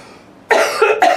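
A person coughs in a short burst of about three harsh coughs up close, breaking sharply out of near-silence.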